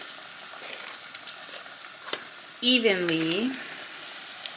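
Low Country crab cakes frying in hot oil at about 375 to 380 degrees give a steady, soft sizzle throughout, with a voice speaking briefly partway through.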